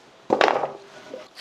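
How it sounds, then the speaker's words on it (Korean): A knife slices green onion diagonally on a wooden board for kimchi, giving a short burst of quick, close chopping strokes followed by a fainter tap. "대파 사용할게요. 그냥 어슷썰기로 싹싹 썰으세요."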